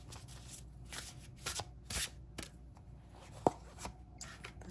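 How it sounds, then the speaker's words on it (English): Tarot cards drawn and shuffled by hand during a reading: several soft riffling bursts and papery flicks spread across a quiet stretch, close up, with one sharp tap partway through and no talking. "All right, so let's draw some cards."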